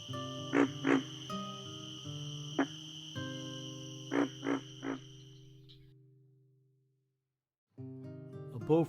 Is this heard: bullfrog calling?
yes